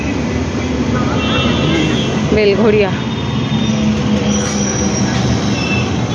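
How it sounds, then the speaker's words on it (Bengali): A train from Sealdah pulls into Belgharia station, wheels squealing sharply over a steady rumbling roll on the platform side, with a short spoken station announcement heard over the noise. "এই দেখো ট্রেন আসছে, এই ট্রেনটা শিয়ালদা থেকে আসছে"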